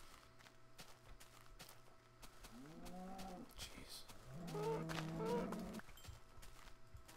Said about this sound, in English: Why don't I ever run into this many cows like in any other game I play?